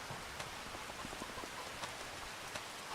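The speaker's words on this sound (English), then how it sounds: "It's not supposed to be raining at the moment." Steady rain in the farming video game Farming Simulator 25, a soft, even hiss of falling drops on surfaces with scattered faint droplet ticks, continuous and quiet throughout.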